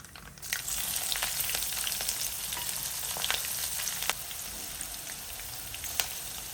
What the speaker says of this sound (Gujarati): તો આપણું તેલ ગરમ થઈ ગયું છે તો આપણે એમાં બે ચમચી રાઈ નાખશું એક ચમચી જીરું હિંગ